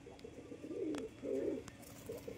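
Rajshahi Giribaz pigeons coo softly in two low, throaty bursts with faint rustling around them. The sound is quiet and a little distant, and no one speaks.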